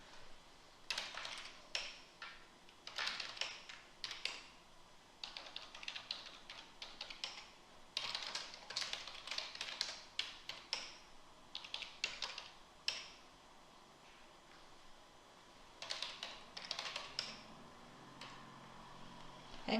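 Someone types on a computer keyboard while filling out an online enrolment form: steady runs of close, crisp key clicks broken by brief pauses, with no voices throughout.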